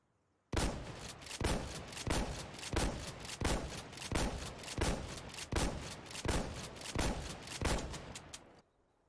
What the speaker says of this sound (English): we're just going to go ahead and shoot this gun as fast as we can without any attachments